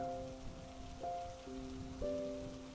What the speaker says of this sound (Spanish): Ahora ha comenzado a llover.